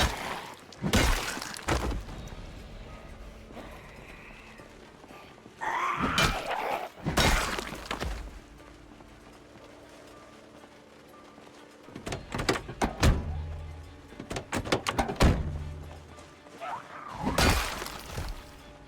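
Car window glass smashing repeatedly in the Project Zomboid video game, several sharp, loud shattering bursts spaced across the clip, with brief thuds between.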